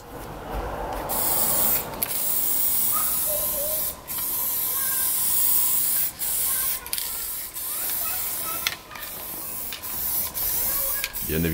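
Spray gun applying two-component clear varnish to a BMW 730i E32 wheel rim, loud hissing bursts of spray repeated in several long passes with short pauses between them.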